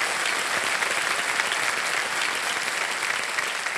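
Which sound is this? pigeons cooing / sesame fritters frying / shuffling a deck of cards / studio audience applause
studio audience applause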